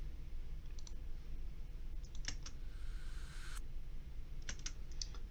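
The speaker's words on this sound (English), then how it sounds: "I also have this percussion, which is really just to help the arrangement a little bit" Sparse, clicky percussion hits scattered over a steady noisy bed in a hip-hop beat, arriving in small irregular clusters.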